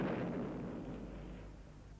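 Heavy cannon bombardment from a short film on Rani Lakshmibai, depicting the East India Company army shelling the southern gate of Jhansi: a dense, continuous booming rumble that fades slightly, with a sharp crack at the very end.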